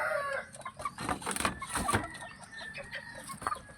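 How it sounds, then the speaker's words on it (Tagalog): A large rooster on a small farm crows and clucks, uttering several short calls in bursts; the calls sound fairly close, with quieter background noise between them. "Malaki na ang aking tandang."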